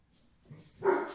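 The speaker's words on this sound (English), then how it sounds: "pardon their woofs when I drop things" A single short, nearby dog bark preceded by a faint low whine, otherwise quiet.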